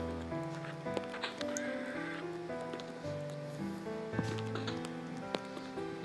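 Horse hooves and a snort sound among layered game music, with soft rustling in the background; no clear talk.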